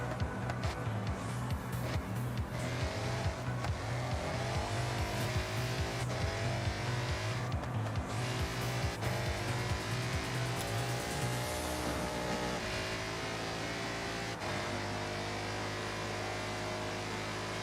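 Cars race through a Japanese drifting video game, with a revving engine that rises and falls in pitch through gear changes and occasional tire squeal, set against rhythmic background music.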